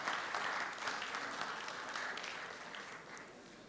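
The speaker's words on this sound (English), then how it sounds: "Give him a round of applause." An audience at a World Philosophy Day conference gives a steady round of applause as a speaker is welcomed to the stage, a dense wash of many hands that holds steady and slowly fades.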